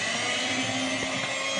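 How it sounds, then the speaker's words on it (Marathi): Urad dal batter for dahi vada whisked by hand in a bowl, a steady dense scraping whirr that runs continuously and fairly close, with no pauses or talk. "मी परत 1 सेकंड फेटते."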